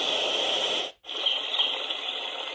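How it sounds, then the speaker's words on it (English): A Babelio Mini sound machine plays its stream setting, a steady broadband rush of flowing water that cuts out briefly for about a beat before resuming at the same even level. "Then it goes to a stream."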